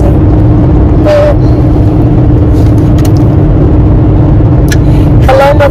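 Loud, steady in-cabin road and engine rumble from a car driving, with a few brief faint higher sounds on top.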